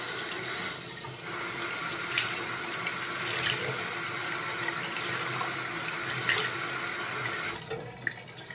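Tap water runs steadily into a sink as a dirty makeup sponge (beauty blender) is wetted for cleaning, a continuous close hiss and splash that stops abruptly near the end.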